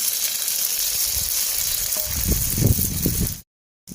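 Egg and potato slices frying in a pan give a steady close sizzle with soft crackles and a few low bumps, then the sound cuts off abruptly near the end.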